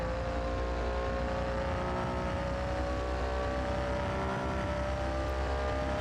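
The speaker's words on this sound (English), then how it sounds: "Listen to that inline 6-cylinder belted out." A steady, droning inline six-cylinder car engine in a video game holds a constant loud hum throughout, with rich layered harmonics and no pauses or talking.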